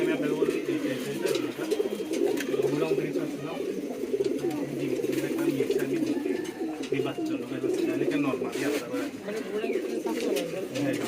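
Giribaz pigeons coo in soft, repeated low rolls, several birds close by among caged and loose flock birds, with people talking over the cooing.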